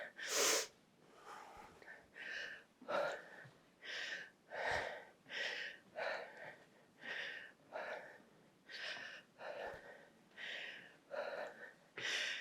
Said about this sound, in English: You breathing heavy like I am?